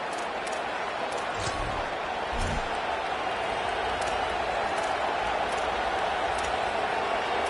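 A stadium crowd in a college football video game, Alabama against Texas, roars as a steady, distant wash of noise with a few faint thuds early on and no clear voices on top.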